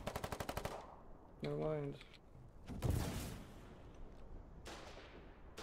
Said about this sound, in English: They're shooting at the base.